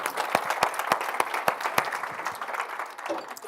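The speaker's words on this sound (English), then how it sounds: "Give her a round of applause" Applause from a keynote audience, a spread of distinct claps at first that thickens into a steady patter and then thins out toward the end.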